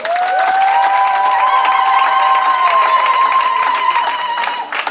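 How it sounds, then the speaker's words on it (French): Wedding congregation in church applauding loudly, dense clapping with cheers and a sustained high shout or whistle riding over it, continuous for the whole stretch. "On va l'applaudir bien fort."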